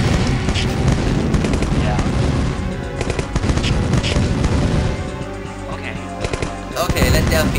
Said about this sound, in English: This damn site starts shooting at the reinforcements